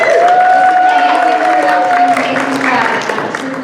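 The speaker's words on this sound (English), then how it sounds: "So please give yourself a round of applause" Applause from a room of Democratic activists at a liberal club meeting, a steady dense clapping that fills the space throughout, with a sustained tone and some voice mixed in.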